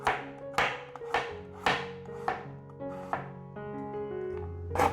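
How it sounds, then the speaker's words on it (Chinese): A knife slices through a carrot on a cutting board, giving about nine sharp, evenly spaced chops close up, each with a short ringing tail, with no talking. "把红萝卜切片"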